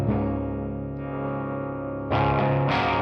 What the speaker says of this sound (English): The guitar I'm using is my Squier Jaguar, and I have a Seymour Duncan. I think it's SHR or SRH 1B hot rail